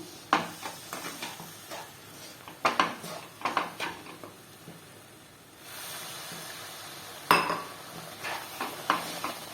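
Hot milk is poured and stirred into roasted semolina in a pan for rava laddu, with sharp clinks and scrapes of a spoon against metal, intermittent and close, plus a brief soft sizzle partway through.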